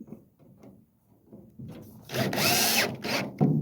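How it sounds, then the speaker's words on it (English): A power drill bores through the center of a rivet on a 1978 Chevy square-body truck. A few quiet knocks come first, then a loud, whirring drill burst lasting about a second and trailing off. "So I'm gonna go right through the center of the rivet into that hole"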